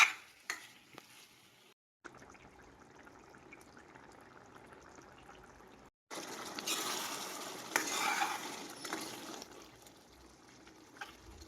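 Potatoes and meat fry together in a pan, a soft sizzle with stirring scrapes that briefly cuts out, then returns louder and fuller with occasional clanks.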